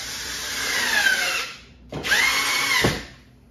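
A power drill drives screws into a wall to mount a garage pressure washer bracket: two close, loud whirring bursts, the second rising and ending with a thud, and no speech.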